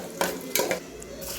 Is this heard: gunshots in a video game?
no